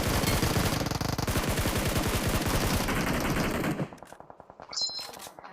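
Rapid automatic gunfire from a squad shooter video game, a dense, loud burst of rattling shots for nearly four seconds that cuts off, followed by quieter scattered game sounds.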